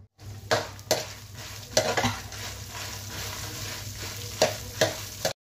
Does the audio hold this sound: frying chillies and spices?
yes